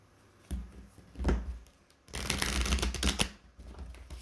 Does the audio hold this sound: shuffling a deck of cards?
yes